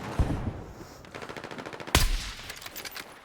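Gunfire in the video game Arma Reforger: a sharp near shot early, a rapid stuttering burst of automatic fire, then a loud blast with a ringing tail followed by more scattered rattling shots.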